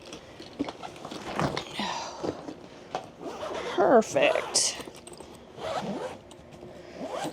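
A backpack is zipped shut during packing, quick ripping zipper pulls repeating in short bursts, close and fairly quiet, with a person talking between and over the strokes.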